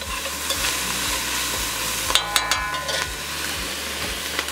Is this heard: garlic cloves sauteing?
yes